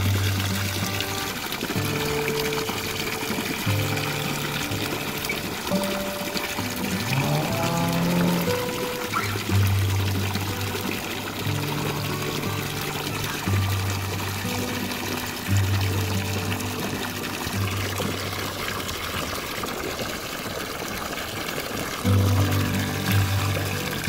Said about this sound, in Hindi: इस टॉप को फुल भरेंगे जी पानी के साथ